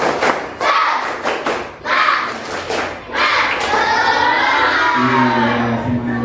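Schoolchildren in a classroom perform a rhythmic clapping routine, with bursts of clustered claps and thumps in a patterned sequence, followed by children's voices chanting together, loud and close.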